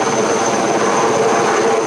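A helicopter hovers while setting roof pieces onto the Château de Valangin, giving a loud, steady engine and rotor roar with a constant whine on top and no talk.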